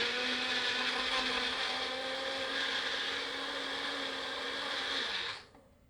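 A blender crushing frozen fruit for Dole Whip, running as a loud steady whine close up for about five seconds and then shutting off abruptly.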